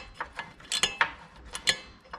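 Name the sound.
small ratchet wrench tightening motorcycle bolts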